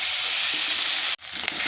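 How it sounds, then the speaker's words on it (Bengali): Potatoes, onion, tomato and green chili frying together in hot oil, giving a loud, dense, continuous sizzle close by, broken by a brief dip near the end before it resumes. "আলু আর পেঁয়াজ, টমেটো, কাঁচা লঙ্কা একসাথে ভালো করে ভেজে নেব"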